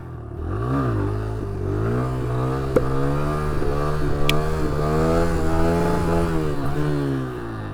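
A motorcycle engine is revved steadily during wheelie practice, with a loud, close, sustained drone that rises and falls in pitch through several throttle swells and carries no speech.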